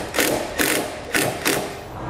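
A ratchet tightens a self-tapping screw holding a circuit breaker mount during a Roadmaster battery charge line install, giving four quick, close ratcheting bursts at a steady, even rhythm with no voices.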